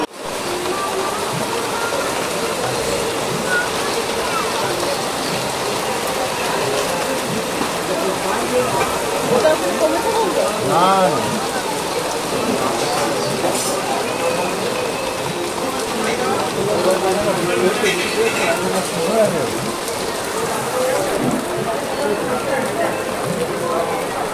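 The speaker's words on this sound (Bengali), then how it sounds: "বৃষ্টির পর চারিদিকের অবস্থা, আবার বৃষ্টি নামছে।" Rain falls steadily over an outdoor area at Tarapith in the evening, a continuous wash of patter and splashing with a faint background murmur throughout.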